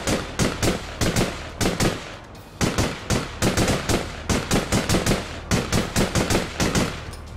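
Loud machine gun fire from APB Reloaded, heard as repeated close bursts of rapid shots separated by short pauses.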